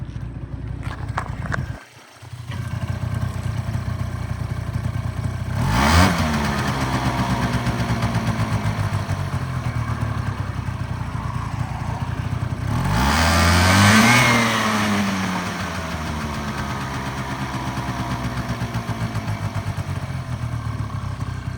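A Suzuki Lets 2 New two-stroke scooter engine idles with a steady buzz, then revs sharply twice, each rev climbing in pitch before settling back to idle.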